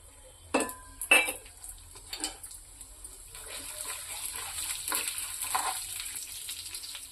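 Urad dal and chana dal fry in a hot pan with a spoonful of oil, heard as soft sizzling under sharp metal spoon clinks and scrapes against the pan, loudest in the first two seconds.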